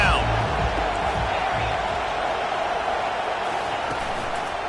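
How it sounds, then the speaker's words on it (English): A stadium crowd in College Football 25 roars on a third-down defensive stand, a steady broad wash of cheering noise, with a commentator's voice faintly under it. "Decibels rising as the crowd gets behind this defense on 3rd down."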